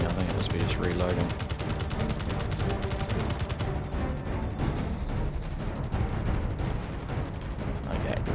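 Rapid, unbroken Gatling gun fire from a Space Engineers turret, a loud, close, rattling stream of shots that carries on without pause, with someone talking over it.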